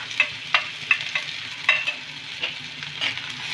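Chopped onion and green chili frying in a pan give off a soft, steady sizzle, broken by sharp scraping strokes as a spatula stirs them. The sound is close and clear, with no talking.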